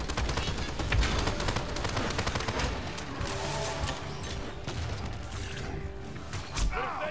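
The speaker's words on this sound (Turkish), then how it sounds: "Bombayı oraya sallayacağım." A bomb thrown during a Paladins match, with dense, continuous game combat noise of blasts and rapid gunfire filling the whole stretch at a steady, loud level.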